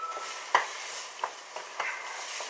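Pasta bake sauce being mixed together, soft wet scrapes and a few brief clicks of a spoon against the dish at irregular intervals, quiet and close with no voices.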